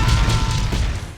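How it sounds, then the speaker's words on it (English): Dynamite explosion destroying an entire city, a heavy, booming blast with a deep low rumble that fades over about a second. "This blast destroys the entire city."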